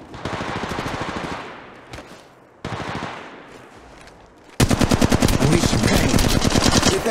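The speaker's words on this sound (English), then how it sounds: "Under fire here." Gunfire in the mobile game Apex Legends Mobile: loud, rapid automatic bursts with brief pauses between, ending in a denser, heavier sustained volley up close.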